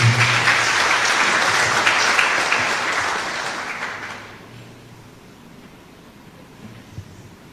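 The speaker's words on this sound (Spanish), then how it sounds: "Un aplauso para la Dios." Church congregation applauding in a warm burst that holds strong for about four seconds, then fades quickly into a quiet room with low hum and a faint stray knock near the end.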